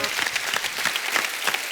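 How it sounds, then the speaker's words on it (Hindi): A studio audience at a Hindi TV comedy show, The Kapil Sharma Show, bursts into a short, dense round of clapping, loud and unbroken for under two seconds. "जोरदार तालियां।"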